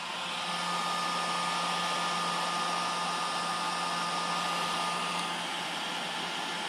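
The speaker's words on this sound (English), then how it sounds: "Go ahead and turn on our heat gun. I usually run them on low." A heat gun runs on its low setting to shrink tubing while repairing an extension cord, giving a steady, even blowing whoosh with a constant motor whine throughout.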